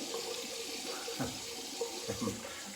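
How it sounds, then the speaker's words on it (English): A bathroom tap runs water for a cold rinse after a wet shave, a steady close hiss of flowing water with a few brief splashy surges, with no voices. "Doing a cold water rinse here straight away."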